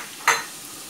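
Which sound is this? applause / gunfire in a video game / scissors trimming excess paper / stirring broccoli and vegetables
stirring broccoli and vegetables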